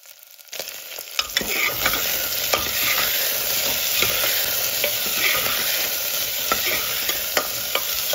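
Chopped potatoes frying with onion, salt and turmeric in a pan, a steady bright sizzle that starts after a quiet moment, punctuated by repeated sharp scrapes and taps of a spoon stirring, with no talking.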